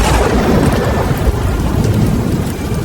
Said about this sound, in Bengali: শুধু ঝড় বৃষ্টির মধ্যে বজ্রপাতের তীব্র শব্দ শোনা যাচ্ছিল।